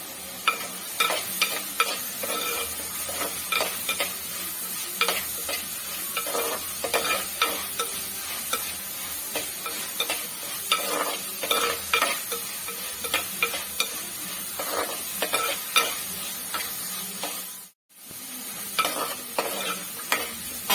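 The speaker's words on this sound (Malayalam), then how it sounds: "നല്ലോണം ഒന്ന് വഴന്ന് വരട്ടെ കരിയാപ്പല ഇടാം" Onion and tomato sautéing with curry leaves in a pan for a drumstick theeyal curry: a continuous close sizzle broken by frequent quick stirring scrapes, with one brief drop to near silence near the end.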